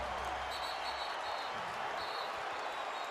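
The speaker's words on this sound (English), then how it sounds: "Listen to this crowd." A Staples Center basketball crowd roars in a sustained, distant wash of cheering and applause as Kobe Bryant sets the Lakers scoring record against the Raptors, with faint court sounds underneath.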